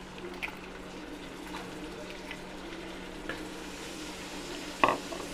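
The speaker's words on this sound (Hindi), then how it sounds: "अभी हम इसमें ऐड करेंगे मटन" Mutton meets fried onions in a cooking pot: a constant sizzle with light stirring scrapes, capped by a sharp clank of utensil against metal near the end.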